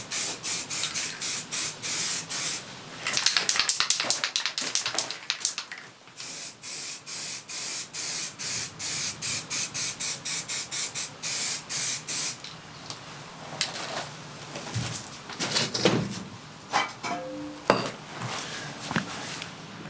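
Aerosol rattle can spraying paint onto retro car badges, with repeated short hissing bursts in a steady rhythm, then a longer continuous spray, followed by a few clinks and light handling sounds close by.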